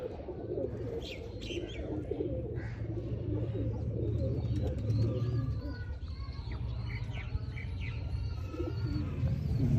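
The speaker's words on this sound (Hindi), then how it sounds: "सियालकोटी कबूतर" Sialkoti pigeons coo in low, throaty murmurs, several birds together at close range, with occasional faint chirps above a steady background hum.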